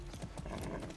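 Horse hooves clip-clopping in the video game Far Cry 6, a quick run of steady, closely spaced hoof strikes, fairly loud and continuous over a busy game soundscape.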